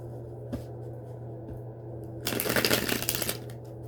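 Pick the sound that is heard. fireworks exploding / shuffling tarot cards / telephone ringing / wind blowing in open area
shuffling tarot cards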